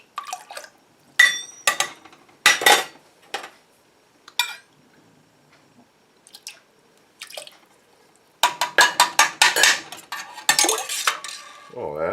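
Measuring cups rinsed with cider vinegar during canning of maple beans: clustered clinks and clatters of cups knocking together with light drips of liquid, bursts separated by quiet gaps, near and fairly loud, no talking.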